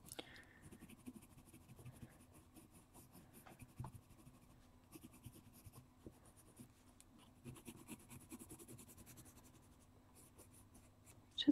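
Oily colored pencils scratching steadily across paper in close, continuous coloring strokes, soft and textured with brief pauses between passes.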